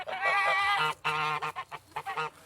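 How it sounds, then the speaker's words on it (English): Geese on a small farm with orchards and allotments honk loudly and close by, several harsh calls in quick overlapping bursts, some drawn out and others short and choppy. "there are geese, as you can hear."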